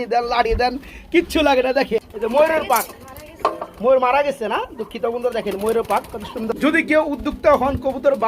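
Pouter pigeons coo on a pigeon farm, their soft calls largely buried under someone talking loudly and continuously nearby.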